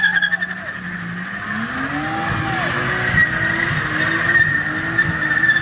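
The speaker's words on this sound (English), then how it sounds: "Ed, do a burnout!" A car doing a burnout at a street car meet in Ocean City, its engine roaring steadily while the tires squeal loud and continuous throughout, with crowd noise underneath.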